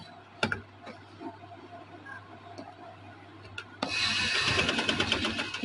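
A sewing machine runs in a steady, busy burst while stitching a trouser, starting after a few faint ticks and taps and continuing close and fairly loud to the end.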